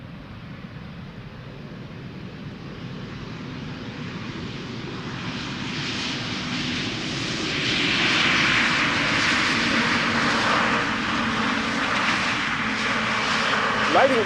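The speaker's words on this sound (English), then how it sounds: "EasyJet A320neo arriving from Edinburgh up next." An EasyJet Airbus A320neo arrives at Amsterdam Schiphol from Edinburgh. Its broad jet roar swells steadily as it nears and stays loud and rushing to the end, with quiet talk beneath it.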